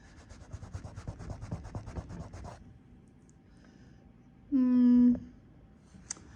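Paint being rubbed out on a fluid art piece makes rhythmic, close scrubbing strokes that stop abruptly, followed by quiet and then a short steady tonal hum.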